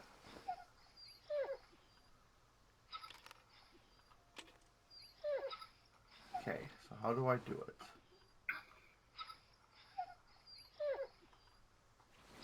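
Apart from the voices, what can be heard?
dog whimpering outside, from a video game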